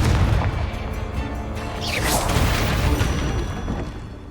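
A Confringo fire blast spell explodes in Hogwarts Legacy amid constant combat noise: a dense, loud rumbling burst swells midway and holds over steady background clatter, with no speech.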